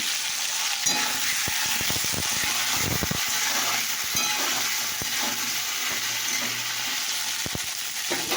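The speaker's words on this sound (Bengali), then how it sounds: "এদিকে হচ্ছে করলা ভাজা।" Bitter gourd frying in hot oil gives a steady, close, dense sizzle that runs unbroken throughout, with a few faint knocks from stirring underneath.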